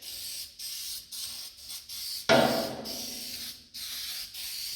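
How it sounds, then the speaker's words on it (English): A series of short aerosol spray bursts with brief pauses, then one longer, louder hiss, as a thick coating is sprayed on a 1948 Chevy truck door; close by, no talking. "Spray a nice thick heavy coat, as much as I can get."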